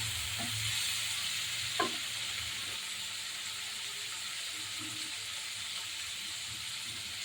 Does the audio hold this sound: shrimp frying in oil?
yes